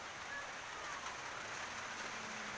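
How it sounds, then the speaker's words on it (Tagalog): Rain falls steadily outside a house, a continuous, even hiss of drops on surfaces with no clear breaks. "Ulan mga kaidol."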